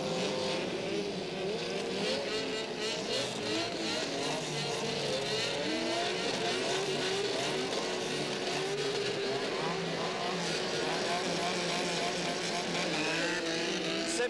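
Rallycross cars, including a BMW, launch at the start of a 1987 final at Trappes: several engines roar and rev together, loud and continuous, with a commentator's voice faintly beneath.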